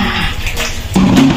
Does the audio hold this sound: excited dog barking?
no